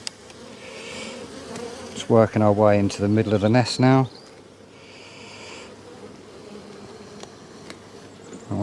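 Healthy honey bees buzz steadily inside an opened beehive as the keeper works into the middle of the nest, a constant close hum running under a man's brief spoken remark and continuing alone afterward.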